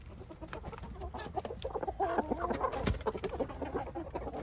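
Backyard hens and a rooster cluck softly and irregularly inside a coop on a snowy winter morning, faint and fairly close over a low background hiss.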